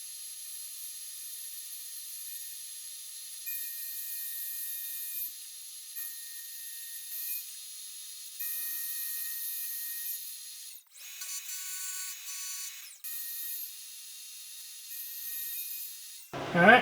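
Milling machine cutting the tangs of a shell mill arbor held on a collet block, a steady high-pitched metallic whine with a few shifts in tone and a short pause near the end, heard alone without talk.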